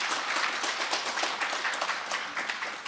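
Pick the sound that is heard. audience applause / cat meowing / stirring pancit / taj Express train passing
audience applause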